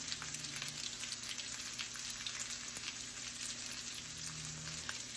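Brussels sprouts frying in grease in a pan give a steady, close sizzle with dense crackling spatter running continuously, and no voices are heard.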